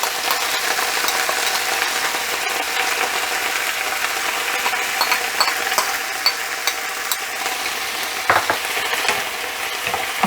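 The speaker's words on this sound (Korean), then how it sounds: "이럴 때는 센 불로 올려서 빨리 좀 볶아주세요" Broccoli with seasoning stir-fries over high heat in a steady, loud sizzle and crackle, with faint scraping of stirring and a brief knock near the end; no one speaks.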